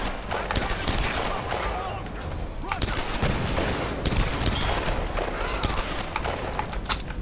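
Rapid gunfire in the Tomb Raider video game, dense repeated shots over a busy action soundtrack, with a player talking throughout.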